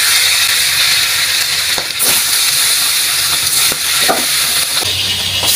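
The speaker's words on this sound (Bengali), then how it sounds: "মাছগুলো ভালো করে ভেজে নেব।" Fish frying in hot oil in a wok gives a loud, continuous sizzle and hiss up close, broken by a few brief scraping stirs.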